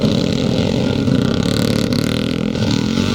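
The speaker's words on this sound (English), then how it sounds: "Darryl Wiley going through on that 4-stroke Honda with that big megaphone exhaust pipe" A 4-stroke Honda motocross bike with a big megaphone exhaust roars loudly and steadily at a classic motocross race in Penrith, its engine note dense and continuous with no voices.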